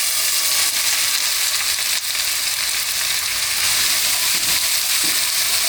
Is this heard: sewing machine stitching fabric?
no